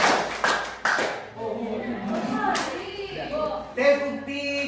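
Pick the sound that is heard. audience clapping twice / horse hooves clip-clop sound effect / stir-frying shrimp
audience clapping twice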